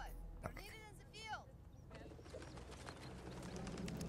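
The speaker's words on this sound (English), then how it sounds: "Oh, look at the birds." Birds call and coo in a video game trailer shown at Gamescom 2021, a few chirping calls early on under a voice talking over the game audio.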